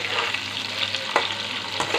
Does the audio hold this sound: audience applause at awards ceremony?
no